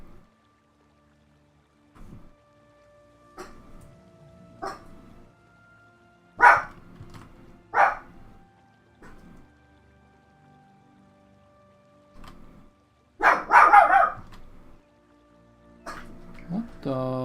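A dog gives scattered single barks, loud and close, spaced irregularly with quiet gaps between them, alongside a few other short sounds.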